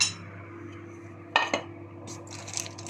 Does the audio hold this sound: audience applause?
no